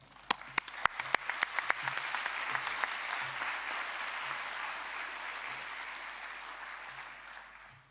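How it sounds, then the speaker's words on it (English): A lecture audience bursts into applause, opening with a few sharp, separate claps before swelling into steady, moderately loud clapping that carries on without voices to the end. "please, a round of applause"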